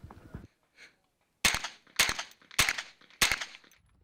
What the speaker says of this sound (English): I start at the left, shoot the targets from the corner.